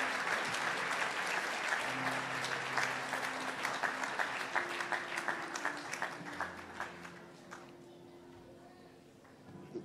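A church congregation applauds the Lord in a long run of dense, loud clapping that thins and fades toward the end, with voices and sustained singing tones underneath.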